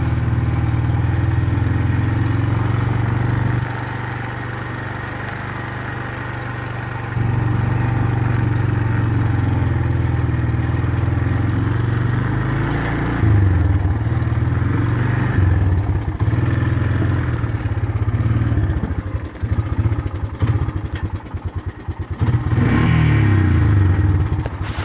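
An old four-wheel-drive vehicle that smokes a little runs with a loud, steady rumbling engine, rising into several revs and rattling surges in the second half, with no talking.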